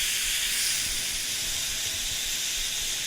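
Pork chop fat edge held upright in hot oil, sizzling steadily and loudly up close with a dense, continuous hiss and crackle throughout, no talking.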